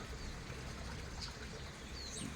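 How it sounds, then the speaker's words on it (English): Small woodland brook flowing gently, a faint continuous watery trickle and hiss heard from a short distance, quiet and steady with no voices. "A wee stream."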